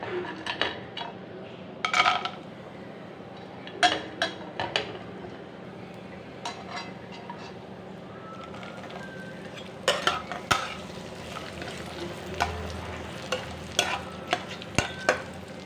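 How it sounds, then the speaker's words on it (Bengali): Cashews and raisins fry in a hot kadai, a soft background sizzle broken by intermittent scraping and clinks of a stirring spoon against the pan, fairly quiet and without speech. "কাজু কিশমিশগুলো ভাজা হয়ে গেছে, এবার চিড়েটা দিয়ে দিচ্ছি।"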